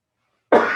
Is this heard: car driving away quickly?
no